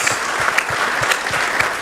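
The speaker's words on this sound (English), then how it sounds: "Big round of applause." Conference audience clapping at a talk on Africa's digital development, a full, sustained round of applause with rhythmic individual claps standing out near the front, no voices over it.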